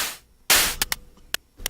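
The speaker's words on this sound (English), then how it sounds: "instead of triangle, we get noise" Bursts of raw noise from a Vermona Twincussion percussion module's noise waveform: one longer hiss followed by several short, sharp, close noise hits, alone with no voices.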